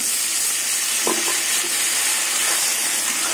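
Potatoes and onions fry in hot oil, making a loud, continuous hissing sizzle with a brief scrape of stirring near the start.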